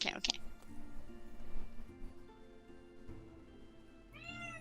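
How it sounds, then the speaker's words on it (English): A house cat meows loudly through a voice call during a tabletop Dungeons & Dragons session. There are two sharp cries at the start and another at the end, over a low background hum and faint voices. "As you can hear one of the cats in the background through the calling stone."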